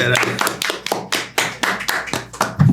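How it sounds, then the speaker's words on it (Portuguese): Clapping in a podcast studio welcoming a guest, a handful of sharp, distinct claps in a quick uneven rhythm, close and loud, from a small group rather than a large crowd. "Seja bem-vindo, Lucas! Aplaudam!"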